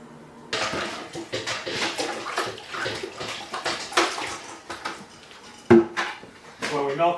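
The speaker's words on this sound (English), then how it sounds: "then I run a thing of cold water through it, and then we'll be done with the milker" Cold water runs through a milking machine to rinse it, a loud rushing gush with clanks of metal, and a pause before the flow surges again near the end.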